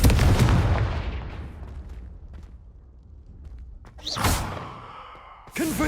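Confringo fire-spell blasts in the video game Hogwarts Legacy: a loud burst fading into a long rumbling tail, followed by two sharp bright explosions near the end, with no talking.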